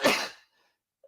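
One sharp, close sneeze bursting out and quickly fading, followed by near silence and a faint small sound at the end.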